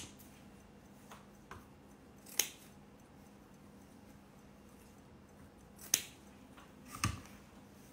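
Scissors snip ribbon free from a bolt in a few sharp, isolated cuts against a quiet room, with faint ticking between them.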